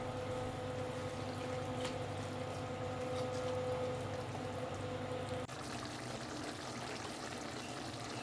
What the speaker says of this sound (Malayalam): ഏകദേശം 3/4 കപ്പ് തിളച്ചാറിയ വെള്ളം ചേർക്കുന്നുണ്ട്